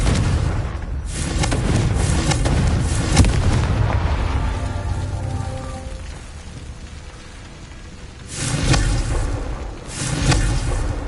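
Confringo fire spell blasts in Hogwarts Legacy on PS5 burst as loud crackling booms, several in quick succession early, then a lull with a fainter rumble before another pair of fiery explosions.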